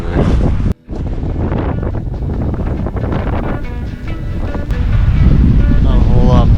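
Strong wind buffets the microphone on an open Alberta hilltop during a deer hunt, a loud continuous roar with brief gusting dips that briefly drops out and then swells louder toward the end.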